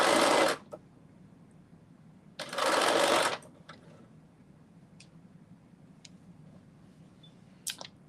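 Serger sewing machine running in two short bursts of fast, dense mechanical whirring, close and loud, separated by quiet stretches with faint handling clicks.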